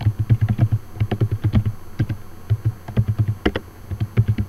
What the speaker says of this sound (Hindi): ये देखिए अब इस तरह ओवर टाइपिंग कर रहा है।